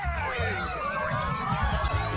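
A loud crowd cheers and whoops, with scattered shouts and a dense wash of voices filling the scene, continuous throughout.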